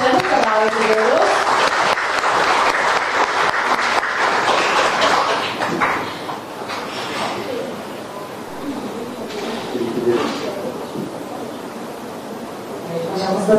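An audience applauds a speaker at a World Diabetes Day awareness event, with steady, dense clapping filling the room. After about six seconds the applause thins and softens.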